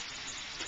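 Water splashes briefly into a pan of braising soy and ginger ribs, a short steady gushing pour up close with no voices.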